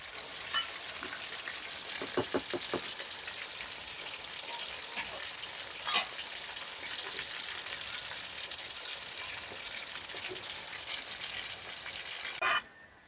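Crabs frying in hot oil, a constant bright sizzle and crackle with occasional stirring clatters and a louder scrape near the end, no talking.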